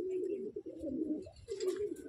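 An Andhra Chennai breed pigeon gives a soft, continuous throaty coo, fairly faint and near, with a slight scratchy rustle toward the end.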